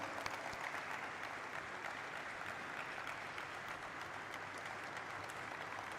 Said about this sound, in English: Everybody stay with me and keep clapping as our partners join us on stage.